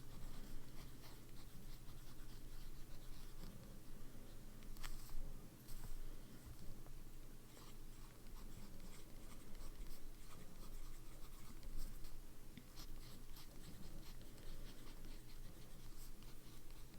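Fountain pen nib scratching steadily across paper with Van Dieman's Ghost Ship ink, a quiet, continuous close-up writing sound with small irregular strokes and no talking.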